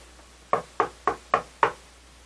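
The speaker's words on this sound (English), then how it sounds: "Knocking on wood again that things will keep going well" Five evenly spaced knocks on wood, close and crisp, sounding alone in quiet.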